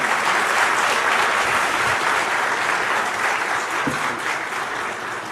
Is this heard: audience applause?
yes